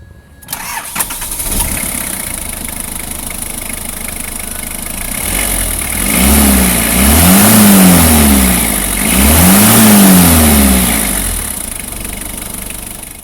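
An Isuzu Fargo WFR MPV's 4ZC1 diesel engine cranks and catches, then settles into a rough idle before two loud, close revs swell and fall back, with no talking.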